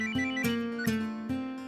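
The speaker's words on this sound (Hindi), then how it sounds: "सर, आपको फोन बज रहा है।" A telephone rings in a repeating electronic ringtone pattern, a steady tone broken by bright chirps about every 0.4 seconds, fairly loud and close, with no talk over it.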